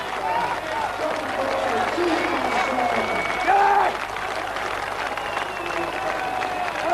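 A huge crowd at the 1990 World's Strongest Man competition applauds steadily and loudly, a dense wash of clapping with some cheering that holds for several seconds while a voice talks over it.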